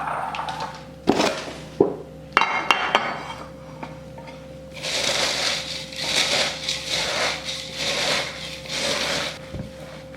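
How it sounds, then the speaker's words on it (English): Wet squelching and scraping of meatloaf ingredients being mixed in a bowl, with a few sharp knocks early on, then a steady, fairly close churning texture with no talk. "Now I'll mix it all together and put it in my pan."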